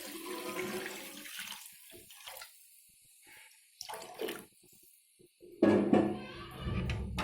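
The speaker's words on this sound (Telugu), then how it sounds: "ఇలా వాటర్ని యాడ్ చేసుకోవాలి." Water is poured into a pot while pepper rasam is being made, splashing in a few bursts after quieter kitchen sounds, with a louder gush near the end.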